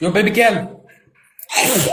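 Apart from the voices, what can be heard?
sneeze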